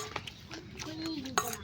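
A spoon clinks against a bowl while a chickpea chaat with tomato, carrot, coriander, green chili, raw onion and mustard oil is mixed, a few light taps over a low background with talking.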